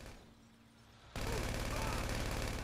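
Rapid automatic gunfire from a vehicle in GTA 5 Online erupts suddenly after a quieter stretch of low rumble, then continues as a loud, dense, sustained burst to the end.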